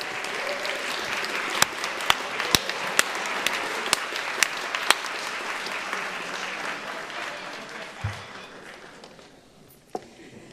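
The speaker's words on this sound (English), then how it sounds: "Can you please stand so we can give you a round of applause, everyone?" A museum audience breaks into sustained applause with a few sharp, close claps standing out, the steady clapping holding for about ten seconds before thinning toward the end.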